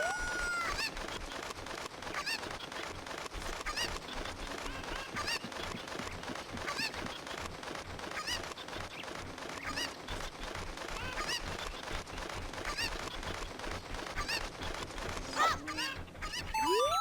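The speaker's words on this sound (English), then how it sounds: "Thank you for finding my cuckoos." Cuckoos, the chickens of the video game The Legend of Zelda: Ocarina of Time, cluck and squawk continuously through a busy stretch of game audio, steady and moderately loud with a brighter flourish near the end.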